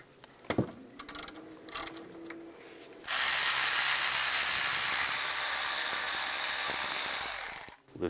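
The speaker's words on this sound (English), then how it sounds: "Using a 7mm hex socket," A 7mm hex socket loosens brake caliper bolts on a 1998-2010 Volkswagen Beetle: a few close mechanical clicks and taps, followed by a sustained loud hissing, whirring tool noise that lasts several seconds before stopping.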